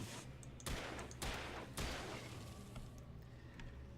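Revolver fire in the Alan Wake game: three sharp, evenly spaced shots crack out about half a second apart over a low, quiet background, with no talking.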